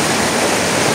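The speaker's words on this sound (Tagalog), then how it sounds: "Malakas yung ilog" A loud, strong river rushes in a steady, dense wash of water noise, close and unbroken, with no voices.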